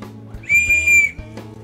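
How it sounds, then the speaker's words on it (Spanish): A small plastic whistle from a survival kit gives one short, shrill blast lasting about half a second, close and loud against a quiet background. "trae un silbato"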